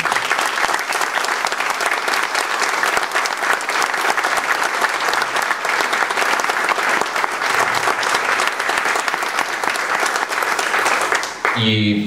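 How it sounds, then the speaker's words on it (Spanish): Loud, sustained applause from a congress audience, dense steady clapping that fills the room for about eleven seconds before cutting off abruptly. "me gustaría que le dieran un aplauso"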